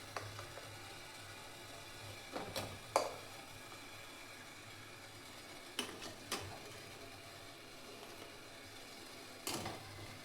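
Metal idli plates holding batter set into a steaming cooking pot, with a few soft clinks and scrapes spread over the stretch against a faint steady hiss, quiet and close, no voices.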